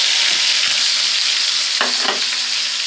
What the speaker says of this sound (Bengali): পেঁয়াজটা তেলের ভিতরে দিয়ে দিলাম।